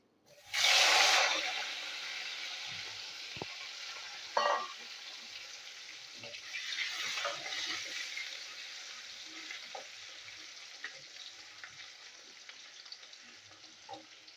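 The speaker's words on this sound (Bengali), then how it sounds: "আলু ভাজা হচ্ছে।" Potato pieces drop into hot oil left over from frying rohu fish, which bursts into a loud hiss, then settles into a quieter, steady sizzle with occasional stirring clicks, and no voices.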